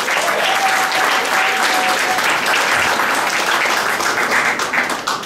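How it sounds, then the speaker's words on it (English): Guests at a wedding reception applauding the couple, a loud, dense, sustained round of clapping that tapers slightly at the end. "A big round of applause for Steph and for Trey."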